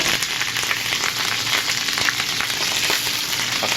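Sprite-marinated chicken pieces in oyster sauce fry in a hot pan, giving a loud, close, crackling sizzle with scattered pops and no voices over it.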